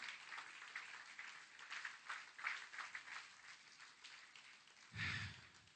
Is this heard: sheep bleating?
no